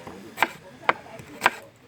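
Three sharp knife chops through chicken on a board, evenly spaced about half a second apart, close and moderately loud over a quiet background, outdoors.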